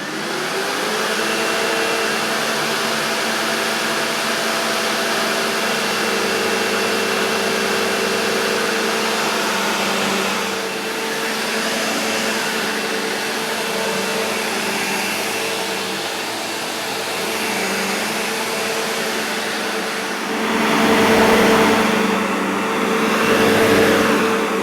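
Sebo Automatic X4 Pet Boost upright vacuum cleaner running on boost, a loud, steady motor whine and airflow roar that holds nearly constant with slight surges near the end.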